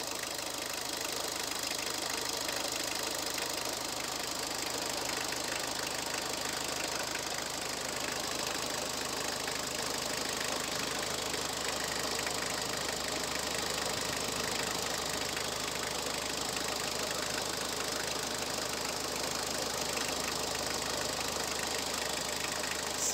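A car engine idling steadily up close, a constant mechanical hum with a faint ticking knock running through it and no talking; the engine is burning or losing oil.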